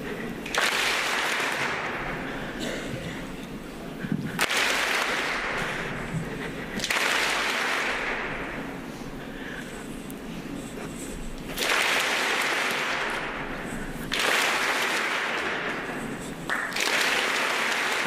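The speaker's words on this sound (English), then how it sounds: "Play with us and only clap your hands when the ball is in the air. So clap fast." An outdoor audience at an academic-year opening claps fast in bursts, several loud stretches of rapid hand clapping broken by short pauses, following the rhythm of a ball tossed in the air.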